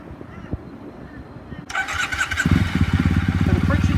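A motorcycle engine starts abruptly and settles into a steady, close running note with slight fluctuations as the clutch is eased out toward the friction point.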